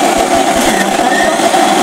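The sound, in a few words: mixer grinder grinding soaked lentils into paste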